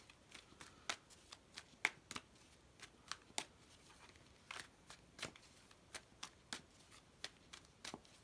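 A deck of fortune-telling cards being shuffled and handled: a steady series of soft, crisp riffles and snaps close to the microphone, fairly quiet, with no talking.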